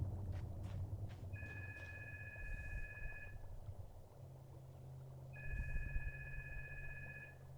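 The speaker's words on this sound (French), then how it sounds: "Putain de téléphone qui sonne, désolé." Two bursts of a telephone's double-tone electronic ring in the PC game Alice: Madness Returns, each lasting about two seconds, over a low ambient game background with faint footsteps.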